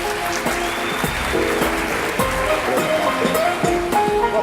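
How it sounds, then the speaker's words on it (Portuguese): Audience applause at a business conference, a steady wash of clapping from a crowded room that continues evenly throughout as a presenter is welcomed to the stage. "Então, recebam com palmas"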